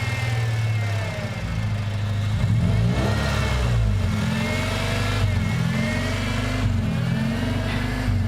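A Honda engine running with its PCV line pulled off, a steady low idle drone with slight rises in revs, close and loud throughout, with no voices.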